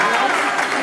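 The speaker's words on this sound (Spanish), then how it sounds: "gracias por los aplausos" A brief wash of crowd applause at a live concert by a tribute band, dense and steady for under a second.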